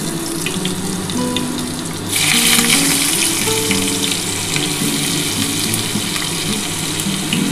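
Butter dropped into hot oil in a kadai for chicken bharta, a steady close hiss of sizzling that swells louder after a couple of seconds and then holds, with no talking.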